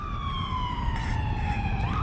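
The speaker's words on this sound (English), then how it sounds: "Sorry about the siren." A wailing emergency vehicle siren sweeps steadily as it passes, loud and continuous over low traffic rumble.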